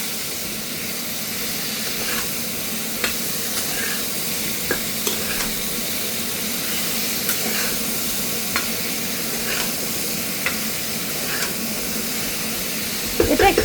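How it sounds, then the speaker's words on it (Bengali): Potato and pumpkin pieces with turmeric and salt lightly frying in a pan, a loud, steady hissing sizzle throughout with occasional small pops and a brief clatter at the end; no talking. "এবার এটা একটু হালকা ভেজে নেব।"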